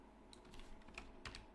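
Quiet, scattered keystrokes on a computer keyboard while entering a command in MATLAB, a few soft close clicks in an irregular burst against a low room hum.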